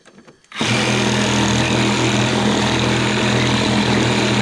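A power saw, probably a jigsaw, kicks on suddenly after a brief quiet moment and cuts wood along a line on a rocker restoration, a loud, steady, buzzing whine that holds evenly to the end.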